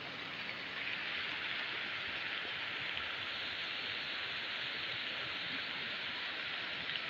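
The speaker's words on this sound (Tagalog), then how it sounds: "Hindi pa rin tumitigil ang ulan." Heavy rain pours steadily during a flood outside a house, a dense, even hiss of water that continues without pause and without talk.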